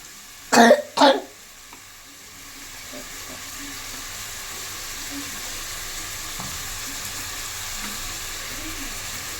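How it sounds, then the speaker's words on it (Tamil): Chopped tomatoes sautéing in a pan, a steady moderate sizzle that builds after a couple of loud coughs at the start and continues evenly with faint stirring. "இப்போ அரிஞ்சு வச்ச தக்காளி எல்லாமே போட்டுக்கலாம். நல்லா வதக்கி விட்டுக்கலாம்."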